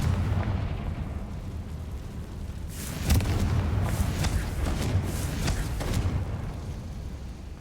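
Fiery explosive spell blasts cast in the Hogwarts Legacy video game, a string of sharp bursts from about three seconds on over a steady low rumble of game ambience.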